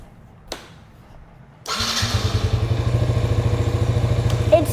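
A Raptor 50 model engine with a faulty run switch fires up after a brief click and quiet, then runs steadily with a loud, fast, even buzzing pulse that keeps going to the end.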